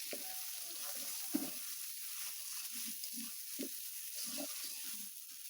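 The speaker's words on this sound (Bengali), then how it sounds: "আলুগুলো ভেজে নিই।" Potatoes frying in oil in a home kitchen for biryani, a quiet steady sizzle with occasional soft stirring knocks and scrapes, close and alone with no talk.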